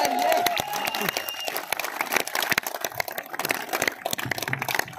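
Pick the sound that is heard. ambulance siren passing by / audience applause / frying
audience applause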